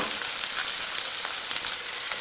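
Bitter gourd pieces frying in a pan, a dense continuous hiss of oil sizzling, close and even, with faint crackles and no voices.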